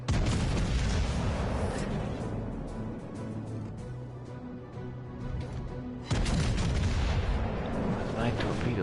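German battleship guns boom and rumble without pause during a naval battle in World of Warships Legends. The dense, heavy firing stays loud throughout and swells again near the end, while a voice speaks faintly underneath.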